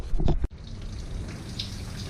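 Coolant draining from a loosened 6mm engine plug on a 2014 Chevy SS, with a brief loud splash giving way to a steady, moderate trickle and pour of liquid.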